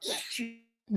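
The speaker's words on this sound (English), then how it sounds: "I'm finna sneeze." A single person sneezes close up, a quick sharp burst with a breathy intake, followed by a brief voiced sound after a short pause.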